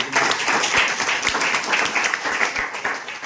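An audience clapping together, a dense run of many hand claps at steady volume for a few seconds.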